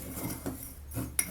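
Rosemary stirred into bath salts in a bowl, giving a few soft scraping clinks of spoon against the container, close and quiet, with one brighter clink near the end.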